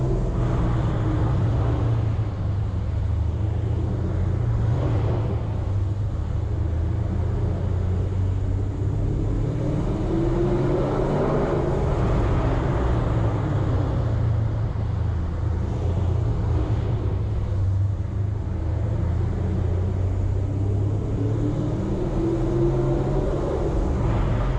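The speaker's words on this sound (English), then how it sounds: "That exhaust never gets old." Dodge Challenger ScatPack exhaust in a parking garage, a steady deep rumble that holds level throughout with slow swells, loud and close, with no talking.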